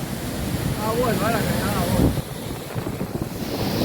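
A rain-swollen stream, the Gundavani nala, rushes at full flow after a downpour. Its broad, continuous roar is loud and close, with wind buffeting the microphone and a brief voice partly buried in the noise.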